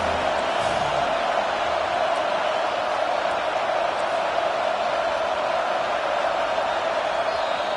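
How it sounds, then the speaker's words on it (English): A loud, continuous roar from a large American football stadium crowd cheering on the defense, sustained and even throughout with no pauses. "This crowd is trying to inspire this defense to make a big red zone stop."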